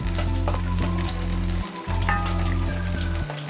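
Chopped garlic sizzles and fries in hot oil in a pan while cooking squid gravy, a steady crackling hiss with a low rhythmic hum underneath and occasional stirring.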